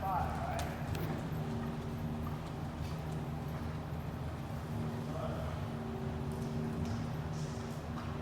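A horse's hooves clip-clop at an unfamiliar barn in Canada, a steady walking rhythm on a hard floor, moderately close and continuous, with faint background hum.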